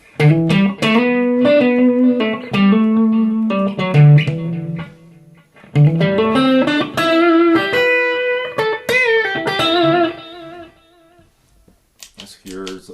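An electric guitar played through a Fender amp with a delay pedal, as melodic single-note phrases whose echoes trail each note, loud and close, in two passages separated by a short pause.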